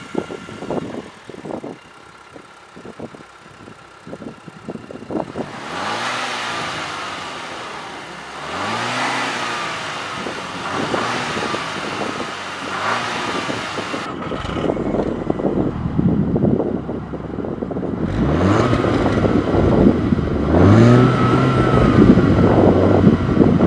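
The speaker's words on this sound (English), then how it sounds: "Now that we've heard how the engine sounds, gotten that exhaust clip" A 2012 Volkswagen Golf R's turbocharged engine revs repeatedly, rising and falling in several loud surges heard from close by with no talking.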